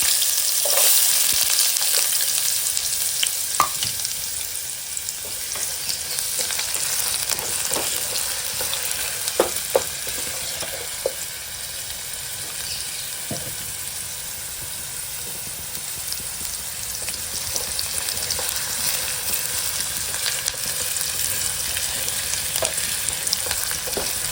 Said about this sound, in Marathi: फोडणी आपली जवळपास डन झालेली